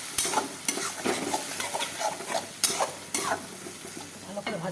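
Spiced masala is stirred and fried in a pan alongside fried shrimp for a jackfruit shrimp dish, with a close steady sizzle broken by repeated scraping strokes of the spoon against the pan.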